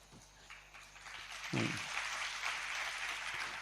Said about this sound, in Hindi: ये क्यों दिखाने के लिए आप तालियां बजाते हो?